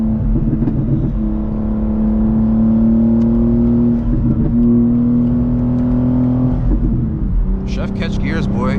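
A BMW X3M accelerating hard on a New York City highway, its engine note rising in loud revving pulls broken by quick gear shifts, with excited talking over it.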